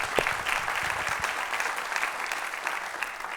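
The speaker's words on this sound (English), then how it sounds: "Let's give a round of applause there." An indoor audience at a faith community fall event applauds steadily, a dense wash of clapping that continues at even loudness.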